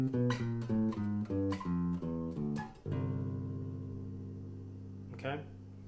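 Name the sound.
jazz bass line with chromatic tones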